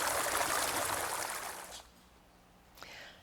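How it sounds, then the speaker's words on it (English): Sand Creek water flows and trickles as a soft, steady wash that fades partway through, then returns faintly at the end. "You can hear the wind. And you can hear the water."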